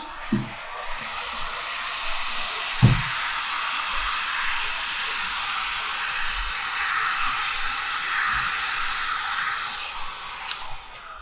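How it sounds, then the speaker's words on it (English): A heat gun blows hot air in a steady, breathy hiss during a painting process, holding a constant level close by, with a few faint knocks and clicks underneath. "now I'll bring the heat gun back"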